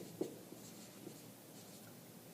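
Chalk or marker writing out algebra on a classroom board, a few faint short scratches and taps in quiet room tone with no talking.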